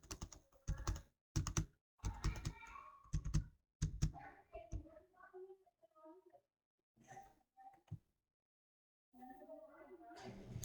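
Short bursts of computer keyboard typing, entering a VLOOKUP formula in an Excel workbook, come in quick clusters of keystrokes separated by brief silent pauses, fairly quiet and close.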